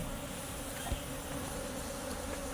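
Bees in a bee chamber make a faint, continuous buzzing drone that stays steady and low in volume throughout, with no speech.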